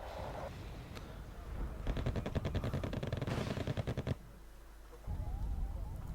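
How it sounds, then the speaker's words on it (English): Artillery fire in the real-time strategy game Wargame Red Dragon: a dense rattling barrage of rapid shots for about two seconds over a low rumbling battle bed, moderately loud and without talk. "Ah, that's a good artillery shot there."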